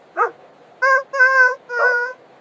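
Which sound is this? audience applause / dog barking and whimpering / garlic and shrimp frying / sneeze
dog barking and whimpering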